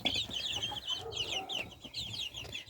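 Month-old chicks clucking and peeping in a farm coop, a steady chorus of high chirps mixed with low clucks, fairly close and without talk.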